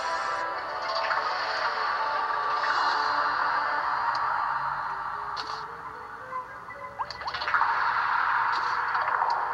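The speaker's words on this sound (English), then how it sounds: "Now that's finally pouring water down that one side." Water pours down one side of a structure in the game Terraria, a steady trickling stream with light splashing and dripping ticks that carries on at an even level.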